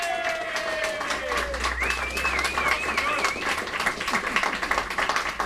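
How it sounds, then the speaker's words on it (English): Steady applause from an audience at the 2018 Mind Sports Olympiad award ceremony fills the clip, with dense clapping throughout and a few voices and whistles rising over it. "a round of applause"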